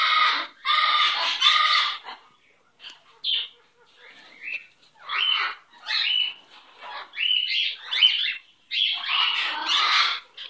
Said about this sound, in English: Look at that good bird.